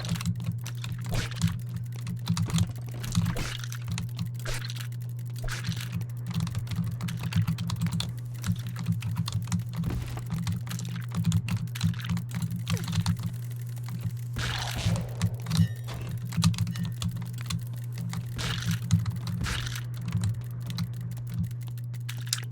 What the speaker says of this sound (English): That clicking noise is kind of satisfying when you have a bunch of them.